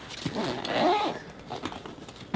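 A zipper pulled closed along a Booq Python Slimpack camera bag, one smooth rasping run that swells and fades, with soft handling rustles around it.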